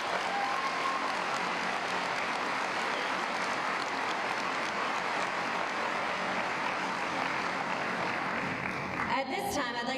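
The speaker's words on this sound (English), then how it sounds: "How about a round of applause for them?" Commencement ceremony audience applauding students in a steady, broad wash of clapping heard through a hall sound system, fading as a voice begins speaking at the end.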